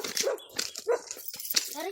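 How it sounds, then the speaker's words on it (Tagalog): Small dogs bark in short, sharp bursts close by, the yaps mixed with people talking over them. "Yan na yung mga aso na maliliit?"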